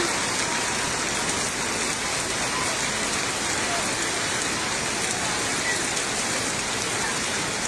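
Steady heavy rain pouring down during a flood, a dense unbroken hiss of drops on surfaces throughout.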